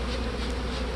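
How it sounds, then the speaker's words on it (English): Honey bees buzz in a dense, steady drone as they are shaken off hive frames during queen-rearing preparation, a close, continuous hum with no voices. "Now I'm ready to shake all those bees off those frames"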